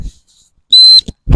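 A gundog stop whistle gives one sharp, shrill single blast of about a quarter second, loud and close, framed by brief low thumps and handling noise.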